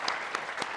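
Under a second of steady applause from a business-forum audience in San Francisco, with many hands clapping in a dense, moderately loud wash.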